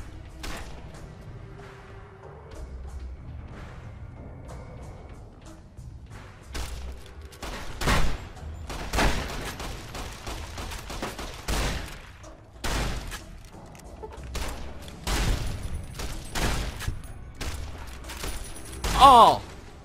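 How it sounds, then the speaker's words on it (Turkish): Scattered gunshots crack in Fallout New Vegas, in irregular single shots and short volleys between quieter gaps, with a sharper loud burst near the end and someone talking in between. "Kim sıkıyor lan bana?"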